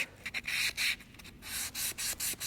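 Hand sanding along the edge of a cabinet, a series of rough, hissing strokes with short pauses between them, close and fairly quiet with no talking.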